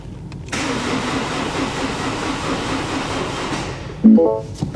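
A car engine, a replacement installed in a flood-damaged car, cranks with a steady whirring starter, then catches with a louder surge as it fires up near the end.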